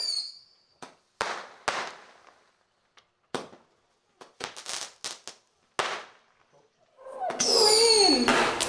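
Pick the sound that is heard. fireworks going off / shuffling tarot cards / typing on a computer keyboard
fireworks going off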